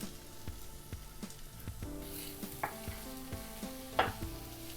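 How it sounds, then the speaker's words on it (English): Ginger, garlic and onion fry quietly on a tawa, a soft sizzle broken by repeated light taps and scrapes of a spatula against the metal. "So now the ginger and garlic have fried. Now I'm going to add the onion."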